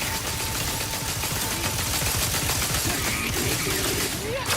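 Rapid stun weapon fire in The Outer Worlds 2 plays as a dense, continuous crackling volley, loud and sustained throughout, with faint game voices in the background.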